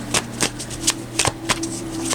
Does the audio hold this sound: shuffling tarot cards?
yes